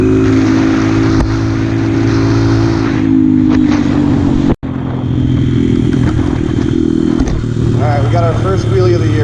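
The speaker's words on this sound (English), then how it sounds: "We got our first wheelie of the year out of the way." A motorcycle engine roars close and loud, revving hard during a wheelie, its pitch shifting through the run with a brief dropout midway, while a voice speaks over it near the end.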